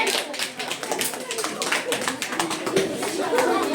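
Classroom clapping for a student, a burst of many hands applauding close by, steady and dense for several seconds with children's voices mixed in.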